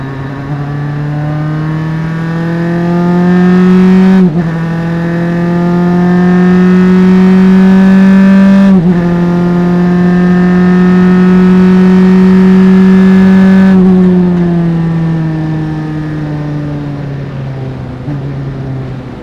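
A single-seater race car engine drones loudly and steadily at close range on a road circuit, its pitch rising and falling through gear changes over a long stretch, with no talk.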